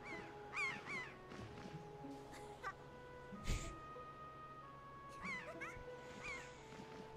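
Faint seagull squawks in the video game Zelda: Wind Waker HD come in short bursts of two or three harsh, falling calls, separated by quieter stretches with low background tones.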